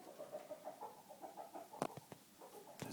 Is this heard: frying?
no